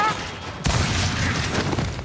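A grenade explodes in the video game Gears 5, a sudden loud boom followed by a rumbling, crackling tail, with chatter from the game over it.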